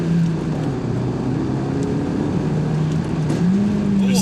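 A Mk1 Audi TT 225 engine drones steadily from inside the cabin, its pitch wavering and then climbing slightly near the end, under a constant road and wind roar.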